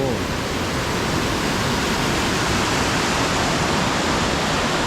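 The roughly 20-metre Datanla waterfall in Dalat pours with a strong current, a loud, constant rushing roar that fills the whole clip without any break.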